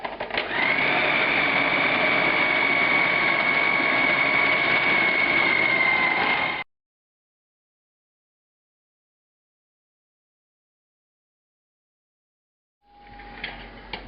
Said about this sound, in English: This is going to get a second grind in a food processor to make it really,